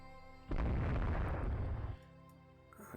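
Naval gunfire and explosions in the warship strategy game Rule The Waves 2: a single heavy boom that rolls on for about a second and a half before fading out.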